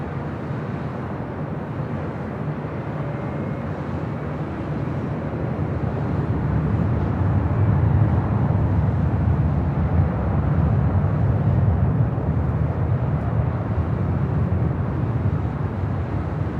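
An airliner takes off on runway 24 left at LAX, a broad low jet rumble swelling gradually from moderate distance and peaking midway before easing slightly, heard outdoors with no talk.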